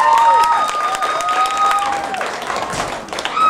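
A live concert crowd at a club gig applauds and cheers for a drummer, with loud, dense clapping and scattered whoops and whistles close by, tapering slightly before swelling again at the end.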